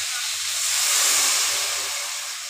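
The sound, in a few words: koi fish and potato broth boiling in a pot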